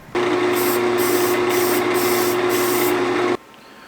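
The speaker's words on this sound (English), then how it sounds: "Now let that dry again for a little while and spray some more." Lacquer sprayed onto a maple bowl in one steady, loud hissing burst of about three seconds from a spray can, pulsing slightly, then cutting off abruptly.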